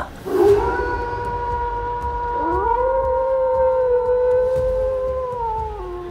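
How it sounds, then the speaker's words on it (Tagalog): Wolf-like howling rises from the woods in a horror tale, layered sustained wails that swell and overlap for several seconds, loud and close, with no talk over them. "At pag-alulong mula sa kakahuyan."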